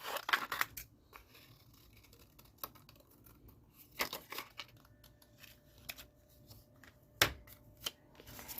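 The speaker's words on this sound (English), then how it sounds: "the first thing we're going to do is we're going to cut out the shapes" Scissors snip through paper to cut out shapes for 3D paper ornaments, a scattered series of crisp close cuts with quiet rustling of paper between them, and no talk.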